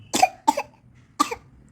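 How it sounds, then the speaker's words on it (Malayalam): A small child coughs three times in short, close bursts, with quiet pauses between them. "ചുമക്കല്ലേ."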